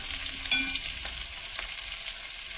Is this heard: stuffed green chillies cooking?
yes